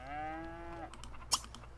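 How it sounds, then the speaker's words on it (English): A single drawn-out cow moo from the video game The Sims 3, set on a farm, heard close and clear with a falling tone and followed by a short click. "I didn't see if the cow accepted."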